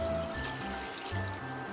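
Vegetable stock and water poured into a cooking pot for Greek fasolada bean soup, a brief steady trickling and gurgling stream close by, fairly loud with a low rumble underneath.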